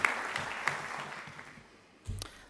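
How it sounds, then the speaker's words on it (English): At an honors ceremony, an audience offers a brief round of applause: scattered claps fading down over a couple of seconds, followed by a low bump of sound. "So could we give them a quick round of applause?"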